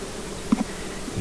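Honey bees buzz around a five-frame hive box in the July apiary, making a faint, steady drone with a few brief nearer passes, and no talk.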